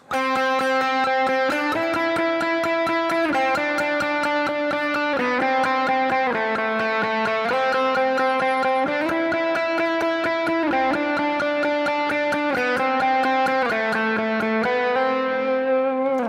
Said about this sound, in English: Adding in the active tones, the blue ones.